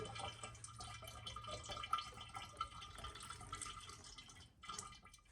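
Engine oil draining from a 2007 Lexus LS460 makes a steady, close trickle of liquid with scattered drips over a low background hum, continuous throughout.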